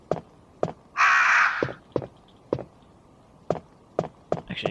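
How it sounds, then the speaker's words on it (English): Crows in the Resident Evil game on Dreamcast give a loud, harsh caw, while sharp, evenly spaced footsteps tap steadily around it. "These crows watch on disapprovingly."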